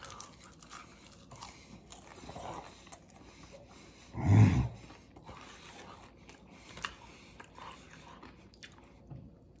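A single crunchy bite into a fried onion ring, close to the mic and brief, standing out against quiet room tone with a little faint chewing around it.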